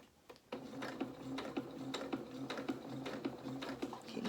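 A sewing machine stitches fabric across the corner of a head wrap, a steady rapid ticking of the needle with small rhythmic clicks, close and moderately loud.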